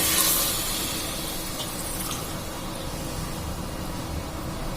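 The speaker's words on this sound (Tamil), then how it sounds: "அரிசிக்கு 4 டம்ளர் தண்ணி தேங்காய் பால் ஊற்றணும்" Coconut milk and water pour steadily into a pot of rice for vegetable pulao, a continuous close splashing gush that runs without pause and eases slightly after the first moment.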